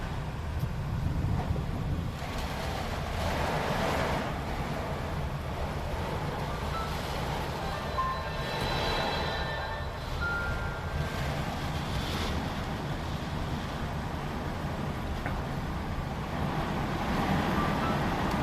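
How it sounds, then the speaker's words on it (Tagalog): Strong wind and heavy rain roar steadily during flooding, with a dense, constant wash of noise and gusty buffeting against the microphone, and no pauses throughout. "apakalakas ng ulan"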